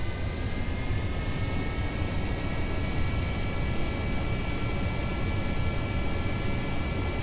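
An aircraft takes off from a runway in Kerbal Space Program, a loud, steady jet-like roar with broadband rushing noise and a faint high whine, unchanging throughout.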